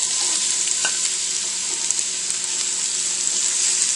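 Grilled cheese sandwiches fry in hot oil in a large pan, giving a steady, loud, close sizzle with a few faint scrapes and knocks, and no voices.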